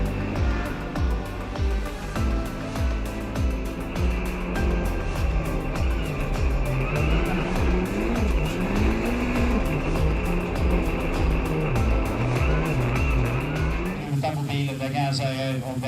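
600-horsepower rallycross supercars race at a Nordic rallycross round in Norway, engines revving and shifting in repeated rising sweeps under continuous commentary, with the engine note dropping away near the end.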